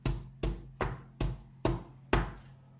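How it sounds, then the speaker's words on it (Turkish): A cake batter pan gets tapped against a surface six times in a steady rhythm, each knock sharp and close with a short ringing decay. "Bu şekilde vuruyorum arkadaşlar. Kabarcıklar, hava kabarcıkları yukarı doğru çıksın diye."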